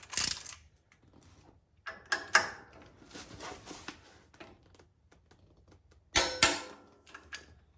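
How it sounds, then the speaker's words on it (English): A wrench tightens the bolt on a Dr. KDSS front sway bar end adapter fitted to a 4Runner or Land Cruiser, heard as several close bursts of quick ratcheting clicks separated by short pauses, with no talking. "wrench it on. And then torque to 55 foot-pounds."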